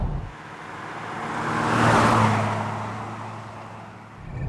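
1982 Ford Granada driving along a road, a smooth engine and tyre whir that swells to a peak midway and fades again, heard alone.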